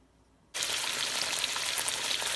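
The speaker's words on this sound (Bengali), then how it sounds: "ফিশগুলোকে ফ্রাই করে নেব" Fish pan-frying in hot oil at medium heat: after a brief quiet moment a loud, steady sizzle bursts in and holds evenly, close by.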